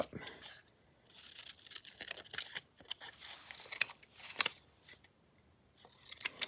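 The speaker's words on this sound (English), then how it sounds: "Okay, trim the top." Close, crisp scissor snips trim the top of a craft piece in quick irregular bursts, separated by brief quiet gaps.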